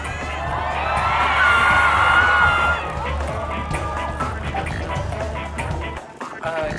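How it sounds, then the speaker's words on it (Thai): Fan meeting crowd cheering and whooping loudly at a stage event, a swelling roar that peaks early then settles into scattered shouts and clapping, with a host's voice briefly over it. "ขอเสียงปรบมือหน่อยครับ"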